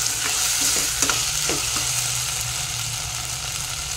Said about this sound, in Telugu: ఇందులోనే టమాటా వేసేద్దాం.